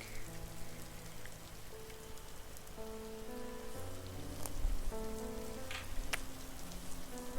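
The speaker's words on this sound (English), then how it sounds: "Oh, I love that sound of rain." Rain patters softly and steadily on a surface in a game scene, faint and continuous, with sustained musical tones layered underneath.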